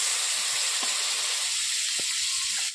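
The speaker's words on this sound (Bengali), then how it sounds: "পাঁচ ফোড়ন দেওয়ার পর আমি সেদ্ধ করে আমগুলোকে দিয়ে দিচ্ছি এখন" Boiled mango pieces go into hot oil tempered with five-spice (panch phoron) for a fish-roe chutney, giving a steady, loud sizzle and hiss throughout with a few soft knocks of stirring.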